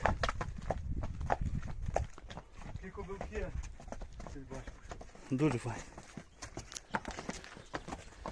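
Hooves of heavy Belgian draft horses clip-clop in a steady walking rhythm at close range, with someone talking over them.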